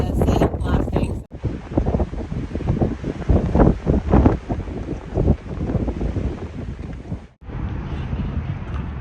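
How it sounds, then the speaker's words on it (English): Strong wind gusting and blasting sand across a desert stretch of the Pacific Crest Trail near Mission Creek, roaring loudly into the microphone for the whole stretch with brief lulls, under a man's speech. "It is so windy, just like 2019 when I came through."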